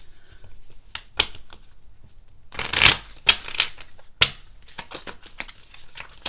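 Angel cards being shuffled by hand in close, crisp riffling bursts, with a louder flurry in the middle, heard alone without talk.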